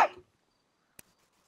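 A single short, sharp cough comes close up at the very start, followed by near silence and one faint click.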